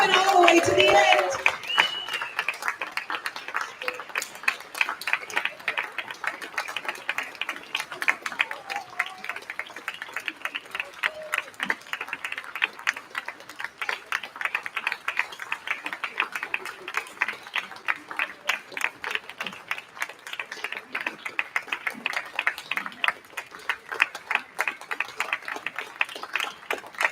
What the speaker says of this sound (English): Keep the applause going until they are all up on the risers.